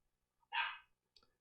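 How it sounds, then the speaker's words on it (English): A single short, sharp dog bark indoors, fairly faint and distant, followed by a brief softer yip or click. "My dog is barking."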